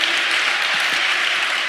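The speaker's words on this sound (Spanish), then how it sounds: "Un aplauso a nuestro Dios." A church congregation applauds in dense, continuous clapping that stays loud and even throughout.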